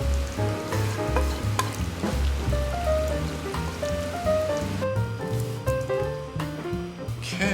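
Beef and broccoli stir-fry in oyster sauce, with bamboo shoots, lotus root and shiitake, crackles and sizzles steadily on a hot serving plate, a close, continuous frying hiss with no voices.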